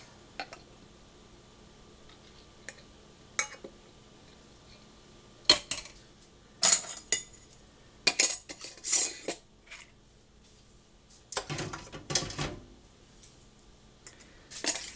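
Metal canning lids and bands set onto jars for canning raw roast beef, heard as scattered light clinks and taps at close range, sparse at first and then a denser cluster of clatters, with no talking.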